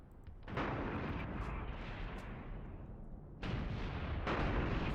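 Gunfire and artillery in an Iran-Iraq War armored battle with tanks, a dense, continuous roar of booming blasts and rapid shots that swells louder near the start and again toward the end, without voices.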